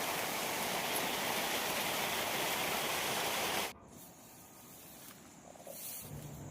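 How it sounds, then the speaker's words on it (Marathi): Heavy rain pours down in a dense, steady roar, then drops suddenly to a much quieter patter. "तुम्ही पाहू शकता थोडा जोरात पाऊस पडतोय"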